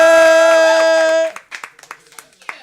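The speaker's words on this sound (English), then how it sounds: "give a warm round of applause for Kim B." A sustained harmonic tone breaks off into sparse, scattered clapping from a small audience welcoming performer Kim B. Miller at a Thursday night tea event, the claps uneven and fairly close.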